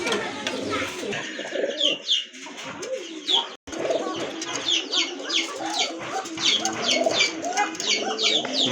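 A pair of red Coca pigeons coo among other birds, low throaty calls repeating steadily, with chirps layered over a busy, close background; a brief gap of silence breaks it midway.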